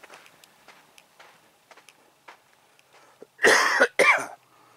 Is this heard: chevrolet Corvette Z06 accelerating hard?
no